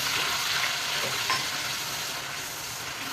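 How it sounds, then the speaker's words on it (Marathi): Onion fries in a thin kadai on high flame, a steady close sizzle with a faint stirring scrape, no talking. "मोठा गॅस करून कांदा करतो"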